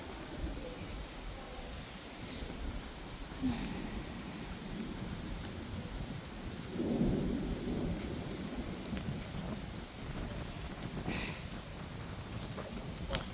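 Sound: rain falling

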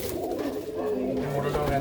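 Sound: pigeon cooing

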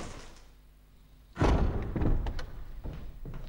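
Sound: door in the video game Resident Evil remake

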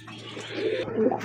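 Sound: pigeon cooing

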